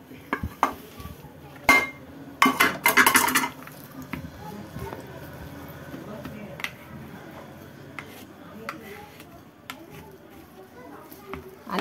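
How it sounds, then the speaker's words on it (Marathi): Ghee-roasted dates scraped out of a pan into a dish, a cluster of clinking, scraping utensil sounds early on, then quieter soft handling with a voice in the background. "आता आपण हे डिशमध्ये"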